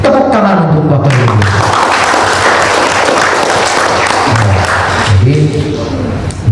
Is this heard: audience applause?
yes